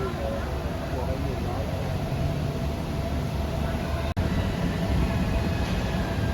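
Steady, loud rumble of a train to Chachoengsao, Thailand, on the rails, a continuous roar with a brief dropout near the end.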